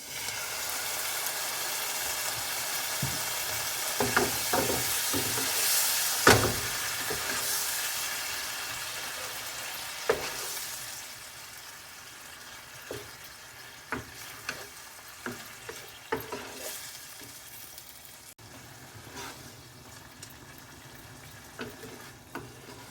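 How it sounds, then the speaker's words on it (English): Chopped tomato tips into a pan of frying cabbage and potato masala, setting off a loud bright sizzle with a few clattering stirs, then the frying settles to a steady quieter hiss with scattered spoon taps. "Now let's add 1 cup chopped tomato."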